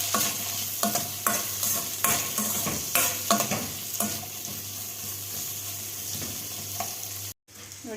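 Green chillies for chilli bajji frying in oil in a pan over low heat, a soft continuous sizzle broken by repeated stirring scrapes and utensil knocks, with a brief cut near the end.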